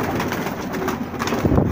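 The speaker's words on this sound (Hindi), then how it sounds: "ये नफ्ता कबूतर है, बहुत ही लाजवाब बदन और बाजुओं का।" A Nafta pigeon coos close by in a short burst of soft, throaty, rolling calls, with no talking over it.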